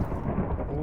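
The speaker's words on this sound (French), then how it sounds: "il y a de l'orage" Thunder rumbling during a storm in the Minecraft video game: a continuous, heavy low rumble that stays steady and fairly loud throughout the short moment.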